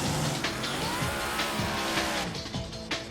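A supercharged drag racing car of up to 8,000 horsepower roars steadily and loudly throughout, with a sustained engine drone and a few sharp transient bursts layered over it.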